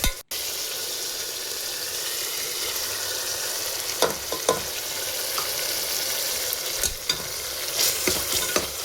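A spoon stirs masala into cooked tomato and onion for tomato bath, giving a continuous soft sizzle with scattered scraping and tapping against the pan, close and steady throughout.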